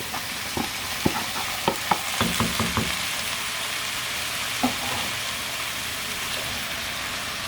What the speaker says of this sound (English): Just give that a really nice stir.